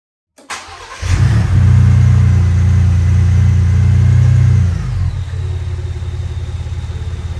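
A Gen2 Ford Raptor truck with freshly installed oil catch cans and intake cranks and fires up, surges into a loud, deep high-idle roar for several seconds, then settles to a quieter steady idle.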